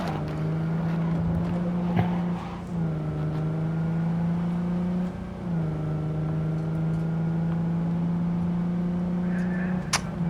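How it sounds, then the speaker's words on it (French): A slow car drives along a highway in Cyberpunk 2077 on PS5, its engine droning steadily and close, dipping briefly twice as it shifts, with no talk. "La voiture est pas très rapide, hein."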